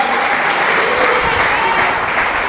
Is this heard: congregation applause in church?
yes